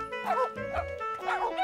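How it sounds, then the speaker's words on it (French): Dogs yip and bark playfully in a French-language Caillou cartoon scene, several short bursts spread across the clip, close and fairly loud, with a faint voice underneath. "Les chiens avaient plutôt l'air de s'amuser."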